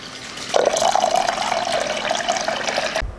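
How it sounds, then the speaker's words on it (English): Water pours steadily from a tap into a pot holding a piece of kombu for miso soup, a close, bright continuous splashing that rises in pitch slightly before cutting off abruptly. "add in 4 cups of water"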